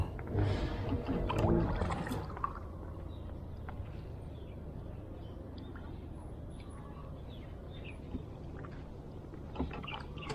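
Oars work a rowboat along the Bang Mot canal, soft splashing and wooden knocks close by, a little louder at first and then settling into quieter, scattered strokes over faint background sound.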